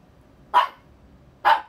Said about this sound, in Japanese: 犬たちが魂の叫びを ぶつけてくる